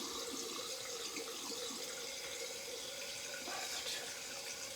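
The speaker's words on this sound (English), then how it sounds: "quick rinse." Tap water runs steadily into a sink to rinse a razor during a wet shave, a continuous close hiss and splash with no speech.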